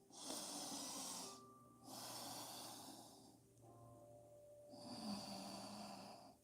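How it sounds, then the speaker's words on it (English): Slow, quiet breaths drawn in and out through the nose during a yoga session, several soft airy inhale and exhale cycles with brief pauses between them, close and alone. "just breathing through your nose."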